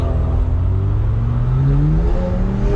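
A BMW 335is accelerating without a launch, its engine note climbing steadily in pitch over a loud continuous drone with road and wind noise.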